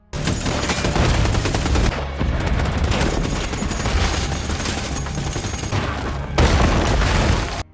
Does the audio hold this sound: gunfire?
yes